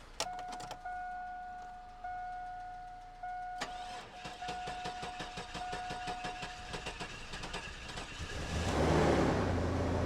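A vehicle engine is cranked and fires in a truck-fab shop: a steady tone and chime give way around four seconds to rapid rhythmic cranking pulses, swelling into a louder catch and rev near the end, with no talk.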